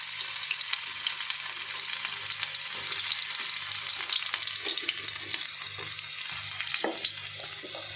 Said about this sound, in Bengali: প্রথমে আমরা রসুন দিয়ে দিলাম,